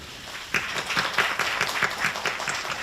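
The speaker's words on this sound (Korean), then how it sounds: "수고하셨고 박수 한번 칠까요?" Applause at a Korean drama press presentation, a modest burst of clapping that starts abruptly and continues as an even patter of hands, moderately distant and fairly quiet.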